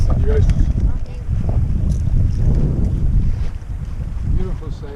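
An Irwin 25 sailboat under way on Lake Winnipeg in a light breeze, with steady wind rumble buffeting the microphone and water rushing along the hull, continuous and close throughout, with faint voices mixed in.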